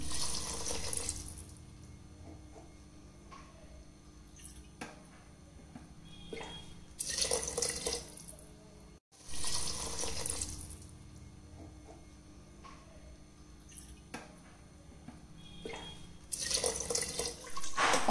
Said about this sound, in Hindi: यहाँ हमने 2 बोल राइस लिए थे, यहाँ मैं 4 बोल वाटर ऐड करूंगी।